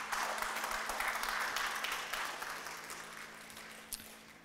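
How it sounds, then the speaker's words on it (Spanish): Applause from a church congregation, a dense steady patter of many hands at moderate distance that thins and fades toward the end, with a low hum underneath. "Denle un aplauso fuerte a nuestro Dios."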